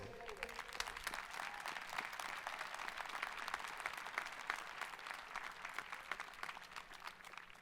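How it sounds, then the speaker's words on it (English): Sustained applause from a crowd of graduates at a college of science, mathematics and engineering commencement ceremony, steady dense clapping held for the whole stretch with no speech over it. "Give yourselves a round of applause because you've made it."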